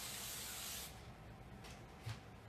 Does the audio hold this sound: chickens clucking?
no